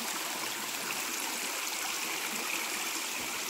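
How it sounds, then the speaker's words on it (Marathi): Spring water spills steadily out of the rocks along the Narmada, making a continuous close-up trickling, splashing stream with no voices. "इथं झरा आहे बरोबर त्या दगडातून पाणी येते"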